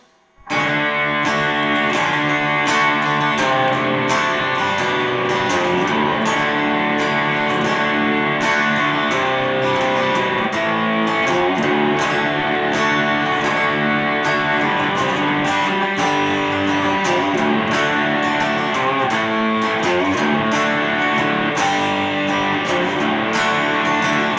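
Overdriven electric guitar plays the chorus of a song: dense, loud chord strums with a steady rhythm, close and unaccompanied by any voice, sustained throughout.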